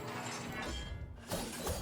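Shield Shatter card effect in the Hearthstone video game, a dense shattering crash that fills the clip, dips briefly, then bursts again with a second bright smash near the end.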